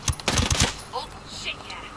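Automatic gunfire in the tactical shooter Ghost Recon Breakpoint, a quick burst of several close, loud rounds followed by fainter game ambience.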